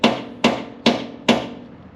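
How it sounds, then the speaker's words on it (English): Four sharp hammer blows land at an even pace, each ringing briefly before the next, fairly close and with no talking, while a Yamaha V-Star 650 project bike is being worked on. "before JT so rudely interrupt me with his goddamn hammering"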